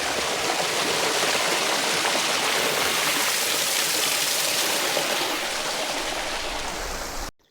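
Creek water rushes steadily near a waterfall in Carpenter Canyon by Pahrump, Nevada, a dense close hiss of flow that holds even, then cuts off abruptly at the end.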